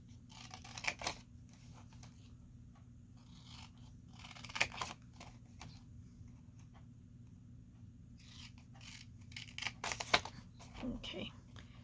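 Scissors snip through a paper gift box along a score line, with quiet, scattered cutting strokes clustered in short bursts over a faint room background.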